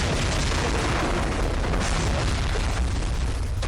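An explosion effect from a Spanish-language audio drama, a dense, loud, sustained roar of blast and rumble filling the whole stretch without pause or voices.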